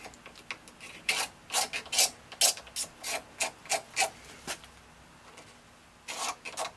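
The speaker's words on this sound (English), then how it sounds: "get yourself a razor blade, and just go ahead and slide it along the edge." A razor blade slides along the edge of a handmade bow to scrape off burrs, making a run of quick, close, crisp scraping strokes in a steady rhythm, with a short pause before a final pair of strokes.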